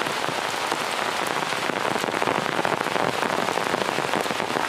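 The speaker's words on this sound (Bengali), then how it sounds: "দেখো কিভাবে বৃষ্টি হচ্ছে, আওয়াজটা শুনেই তোমরা বুঝতে পারছো কত জোরে বৃষ্টি হচ্ছে।" Heavy rain pours down at night in a village, a dense, loud, continuous patter and hiss of drops striking surfaces, steady throughout with no voices.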